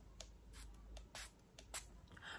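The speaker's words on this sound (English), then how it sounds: "You spray this inside your cotton wool." Dettol antiseptic sprayed into cotton wool, several faint short hissing spray bursts in an uneven rhythm against a quiet background, with no talking.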